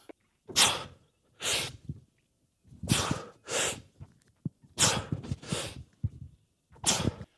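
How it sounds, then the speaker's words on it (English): Sharp, forceful breaths during CrossFit thrusters, about eight of them in rough pairs, each a loud huffing burst with brief silence between, close and unaccompanied by talk. "Listen to how I like to breathe on thrusters."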